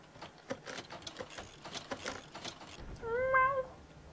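A cat meows once in the Harry Potter and the Goblet of Fire PC game, a clear, drawn-out harmonic call that rises and falls near the end, after a stretch of soft ambient game noise.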